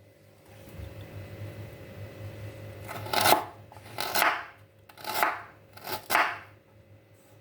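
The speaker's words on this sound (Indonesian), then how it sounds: "Satu ruas lengkuas diiris-iris tipis." A knife thinly slicing a segment of galangal, heard as four distinct crisp cutting strokes spaced about a second apart, close and clear over a quiet kitchen background.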